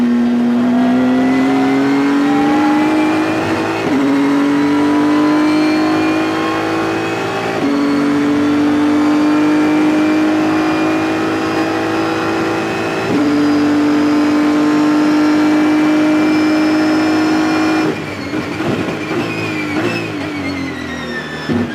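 A race car at full speed down the Road America straightaway, its engine note rising steadily through several loud upshifts before lifting off near the end, heard close and without talk.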